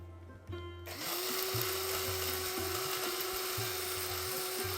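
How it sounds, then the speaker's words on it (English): Electric kitchen grinder blending roasted sesame seeds into a spice mix: the motor switches on and whirs loudly and steadily, with rhythmic rattling pulses of the jar and seeds throughout. "Grind them a bit together"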